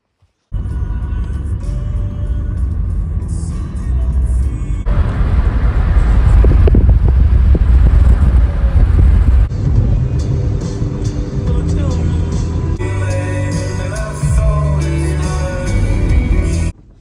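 A camper vehicle drives down a dirt road on the way to a lava tube, with a steady loud engine rumble and rattling road noise under wind buffeting that carry on throughout.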